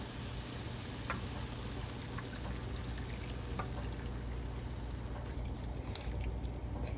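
Evaporated milk pours steadily for Haitian mac and cheese, a soft continuous liquid stream over a low background hum, quiet and close with no talking.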